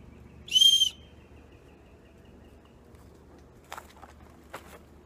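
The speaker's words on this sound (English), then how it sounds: "the whistle works" A cheap survival kit whistle gives one short, shrill blast near the start, followed by quiet outdoor ambience and a couple of faint taps.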